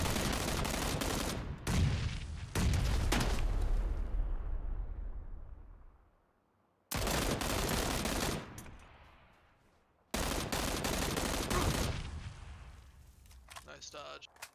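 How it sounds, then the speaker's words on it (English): Bursts of gunfire and grenade explosions from a PUBG battle, loud and dense, coming in several heavy blasts that fade out with a short silence between them. "He's throwing grenades."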